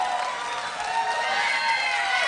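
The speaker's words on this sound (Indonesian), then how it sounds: "Kita berikan tepuk tangan yang meriah untuk seluruh paslon." Audience applause and cheering from a crowd at a televised public debate between regency head and deputy candidates in Tana Tidung, a steady dense wash of clapping sustained at even loudness throughout.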